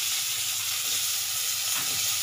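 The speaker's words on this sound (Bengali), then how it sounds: "এবার একটু আলুটা হালকা করে ভেজে নেবে।" Potatoes frying in a pan make a close, steady, hissing sizzle that continues unbroken for a couple of seconds with no talking.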